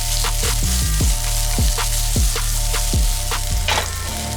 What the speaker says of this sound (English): So we're gonna throw the onions in there.